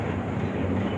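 The Mahua Express train departs the station, heard as a steady low rumble and hum from inside a 3AC coach, continuous and moderately loud with no voices.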